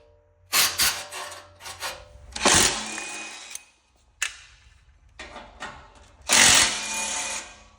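Power tool zipping bolts out of the back cover of a zero-turn mower, in three separate whirring bursts with quieter handling noise between them.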